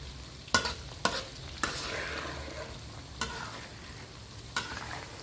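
Clams deep-frying in oil over medium heat, a steady sizzle broken by five crisp stirring or scraping strikes of a utensil against the pan.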